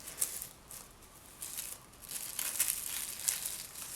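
Cling wrap being folded over twice by hand, producing soft, close crinkling rustles in uneven bursts with brief quiet gaps between them.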